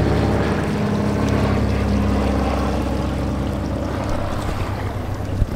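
A fishing boat motor idles with a low, steady rumble, close by and continuous, with faint water sounds around it.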